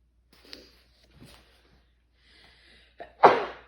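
A single sharp sneeze bursts out near the end, preceded by a quick inhale and a few soft breaths and small movements in an otherwise quiet room.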